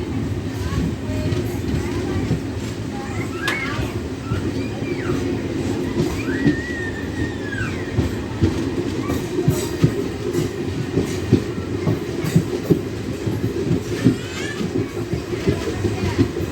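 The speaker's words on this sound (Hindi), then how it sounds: "डिपार्ट हो रही है ट्रेन" DEMU train pulling away and running along the rails, a continuous close rumble with rhythmic wheel clatter and occasional faint squeals throughout.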